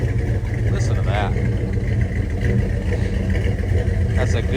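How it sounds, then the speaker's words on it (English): Engine of a 1968 Dodge Dart running in neutral while warming up, a steady close rumble with a slight rise in revs partway through, under the faint sound of a person talking. "That's a good sounding car right there."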